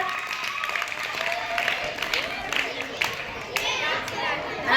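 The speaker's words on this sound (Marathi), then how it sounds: "सगळ्यांनी त्याच्यासाठी टाळ्या वाजवा" Schoolchildren clap together for a classmate playing a ball-balancing game at school, a scattered, lively patter of many small hands mixed with children's chatter, moderately close.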